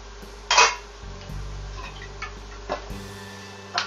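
A spoon clinks against a pot while fideo pasta with a little garlic is stirred: a sharp metallic tap, then scattered soft knocks and scrapes over a low cooking hum, moderately close.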